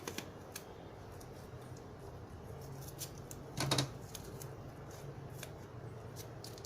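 Paper tape is wrapped around a wire piece for a wall-hanging key holder, giving quiet close crinkling and tearing ticks with one brief louder rustle midway, no talk.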